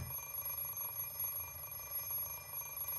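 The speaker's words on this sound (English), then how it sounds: "Oh, the old snooze alarm trick." Inside the Fate/Stay Night video game, a snooze alarm clock rings as a continuous high electronic tone over a low background hum, steady and alone for about three seconds.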